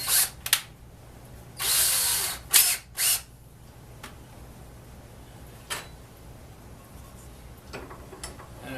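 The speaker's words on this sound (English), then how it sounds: "Then I put it in the chuck of a drill motor." A drill motor whirs in a few short bursts, spinning sandpaper to hone holes in an antique hand crank grinder casting, with quieter clicks and scraping in between, close by.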